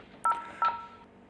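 Two short, clear keypad tones from a Panasonic KX-T7730 phone while programming a Panasonic KX-TES824 PBX, heard close, one after the other with a brief gap.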